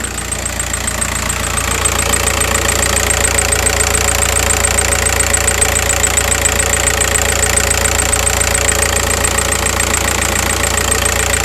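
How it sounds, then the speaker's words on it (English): A car engine runs with a bad misfire, a steady loud idle carrying an uneven, irregular knocking roughness and a constant high whine over it, with no one speaking. "you can clearly see some bad noise coming from the vehicle"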